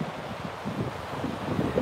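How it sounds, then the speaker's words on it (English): Biting wind rushes at a chilly beach, buffeting the microphone with a low, uneven rumble and faint rustle, no voices present. "that wind is pretty biting"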